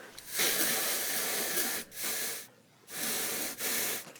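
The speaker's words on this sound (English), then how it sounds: "So I'm just going to add a little bit of WD-40 into those screw sockets." WD-40 sprayed from an aerosol can into screw sockets on a car, heard as several sustained hissing bursts with short pauses between them, close and fairly loud, with no talking.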